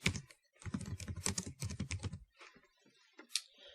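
Fingers tap out a brand name on a computer keyboard in quick, close bursts of clicking keystrokes, with a short pause before a few last scattered taps.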